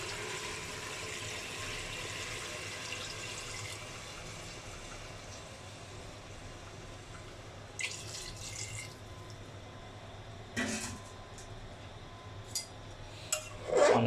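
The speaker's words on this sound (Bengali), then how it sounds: "আমি পরিমাণ মতো পানি দিয়ে দিচ্ছি।" Water is poured into a cooking pot of chicken gizzards and liver, a soft steady trickle that runs for the first few seconds, followed by scattered clinks of utensils against the pot.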